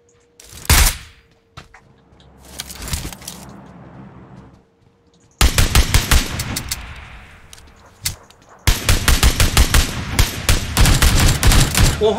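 Video game gunfire comes as sharp single shots and then dense rapid bursts of automatic fire, loud and close, with brief quiet gaps and faint room tone between volleys.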